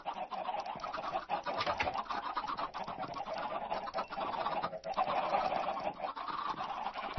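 Chickens in the Minecraft video game, a steady muffled run of small clucks and scratchy clicks that stays fairly faint and continuous throughout.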